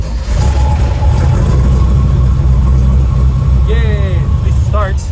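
A 1955 Chevy Tri 5 with a low battery, not started in a while, runs with a steady, loud low rumble throughout; a voice briefly cuts in near the end.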